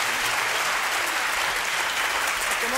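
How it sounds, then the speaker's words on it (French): A television studio audience on a French variety show breaks into loud, continuous applause, a thick, unbroken roar of clapping filling the whole moment. "Quelques applaudissements peut-être pour motiver Monsieur Oui."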